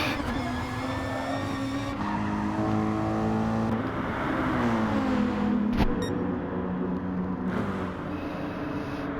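Touring race cars in a BTCC-style racing game hold a continuous loud engine drone, with the pitch rising and falling as they shift gears, tyres skidding and cars passing close. No voices are heard.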